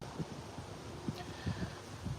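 Gusty wind buffets the microphone outdoors, low rumbling thumps coming in irregular bursts over a steady hiss.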